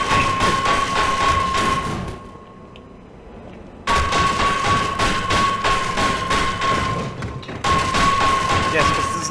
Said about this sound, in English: You hit one side of it until the entire thing explodes.